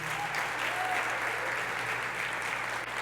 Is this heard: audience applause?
yes